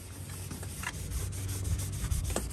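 An applicator pad rubs against oxidized, slightly damaged exterior trim on a truck, giving a steady close-up scrubbing texture with faint repeated strokes and no voices.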